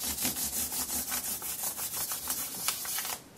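Sandpaper rubs back and forth over guitar frets to level them, a steady rhythmic scratchy sanding with quick repeated strokes, close and fairly quiet, stopping near the end.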